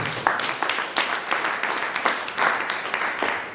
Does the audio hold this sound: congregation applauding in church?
yes